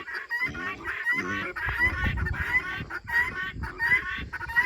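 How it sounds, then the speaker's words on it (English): Several chickens cluck and squawk close by, overlapping in busy, agitated bursts that continue without pause. "that was today's episode of Gus disrupting all of the chickens."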